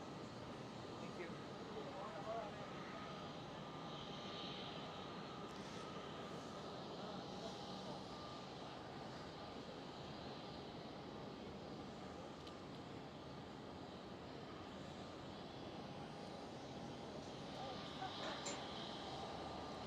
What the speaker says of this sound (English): Transavia Airbus A321neo.